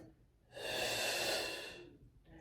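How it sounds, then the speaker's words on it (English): A single full, deep breath taken during a slow spine-corrector exercise, a long airy inhale-exhale swelling for about a second and a half, close and clear with no talking. "Oh, full breath."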